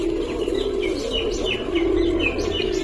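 A female pigeon being handled in a loft coos in a low, continuous murmur, with thin chirps above it and a steady background hum, close and fairly loud with no talk.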